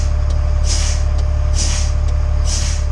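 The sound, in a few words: air brakes of an Abel LMTV truck as the pedal is pumped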